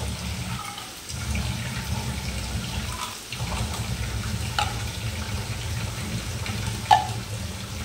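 Water poured into a freshly ground paste of mustard, turmeric, green chilli, melon seeds and poppy seeds, making a steady low rushing wash with a couple of short dips and one sharp knock near the end.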